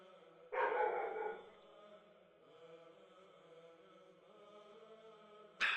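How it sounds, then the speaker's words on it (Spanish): A small pet dog barks indoors in a short burst, then again briefly at the end, moderately close, with a quiet room and faint background voice between barks. "Si escuchan a mi perrito por ahí,"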